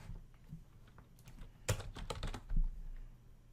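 Keys clatter on a computer keyboard while a project is set up in a C# coding environment: a few quiet taps, then a quick burst of close typing and a couple of firmer strokes near the end.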